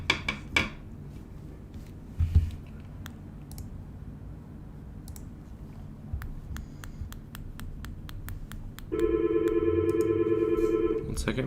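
A telephone rings during a live day-trading stream: a steady electronic ringing tone starts near the end and holds, after scattered sharp clicks and taps in an otherwise quiet room.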